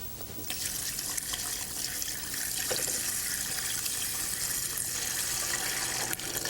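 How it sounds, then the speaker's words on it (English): Milk pours steadily into a pan holding butter, sugar and milk powder, a close, continuous liquid splash lasting several seconds. "And we're going to add our milk."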